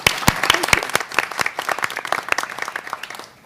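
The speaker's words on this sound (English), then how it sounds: "Please join me in a round of applause for their efforts this past year." Applause for committee members at a FOIA Advisory Committee meeting: a small group claps in a quick, uneven patter that gradually thins out and fades.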